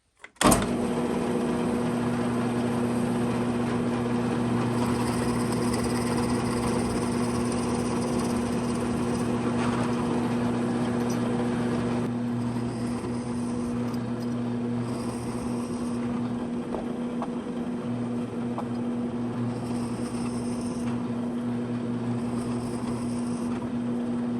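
A drill press with a Forstner bit boring holes into a wooden storage block: a continuous motor whine with a steady tone. It runs close and loud for over twenty seconds, with slight changes in load as the bit cuts.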